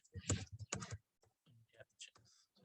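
Keys clatter on a computer keyboard in quick, uneven bursts while a folder name is entered at a command prompt, the clicks close and mixed with a man's speech.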